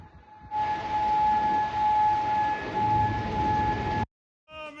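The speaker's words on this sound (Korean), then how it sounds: "쿠웨이트 시티에서 사이렌이 울려 퍼집니다." Air-raid sirens wail over Kuwait City in a steady, loud, sustained tone lasting several seconds before cutting off, then a voice begins speaking.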